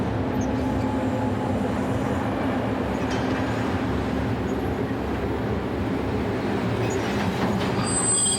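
An eastbound freight train rumbles steadily along the rails in Europe with a constant low roar, faint wheel squeals and clatter rising now and then, close by.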